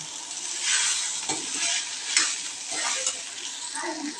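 Soaked sago pearls are stirred into spices in a pan for sweet-and-sour sabudana khichdi, with repeated scraping stirs over a soft, steady sizzle.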